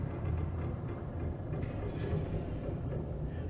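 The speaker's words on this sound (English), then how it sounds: "I think the train sounds are getting creepy in the Nether" Train sounds in the Nether of a video game form a continuous low rumble with faint rhythmic clatter, steady and moderately quiet throughout.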